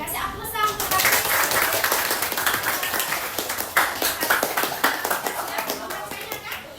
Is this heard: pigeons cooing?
no